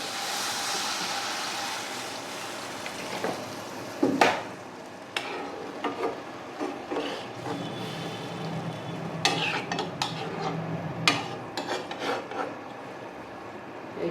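A spoon stirs potato and eggplant in a pan after water is added, scraping and knocking against the pot in uneven strokes over a low simmering hiss.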